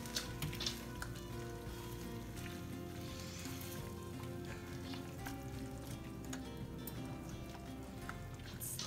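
Sweet and sour sauce simmers with noodles in a stir fry pan, a steady dense sizzle and bubbling crackle running evenly throughout with faint scattered pops.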